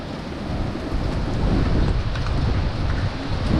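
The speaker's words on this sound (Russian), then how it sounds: "Ужасная погода." Stormy weather on a river, with strong wind and waves roaring steadily and loudly across the whole stretch, broadband and unbroken, with no voices over it.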